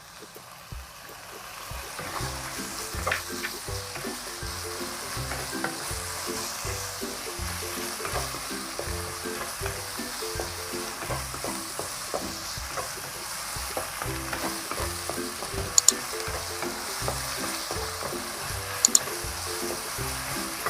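Shiitake mushrooms stir-fry with minced pork and ginger in a pan, a soft steady sizzle with rhythmic scraping from repeated stirring, close, fairly quiet and without talk, with a couple of sharp clinks.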